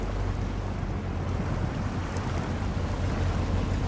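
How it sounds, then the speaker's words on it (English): A truck plunging into ice cold water in SnowRunner, a steady loud rushing churn of water and engine rumble that persists throughout. "Plunging into the ice cold water."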